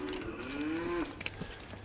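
Cattle on a farm moo in a long, drawn-out call with a falling pitch, close and fairly loud, followed by quieter farmyard shuffling.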